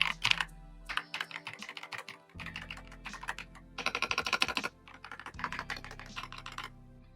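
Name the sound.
mechanical keyboard typing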